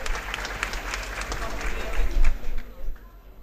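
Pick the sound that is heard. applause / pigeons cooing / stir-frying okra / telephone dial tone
applause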